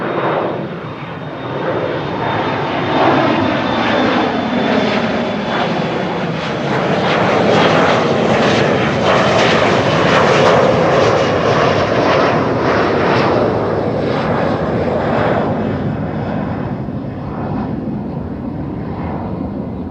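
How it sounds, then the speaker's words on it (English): A KLM Embraer 175 airliner bound for Düsseldorf roars past at Amsterdam Schiphol Airport, its engine noise loud and sustained, swelling to a peak midway and then slowly fading. "Embraer 175."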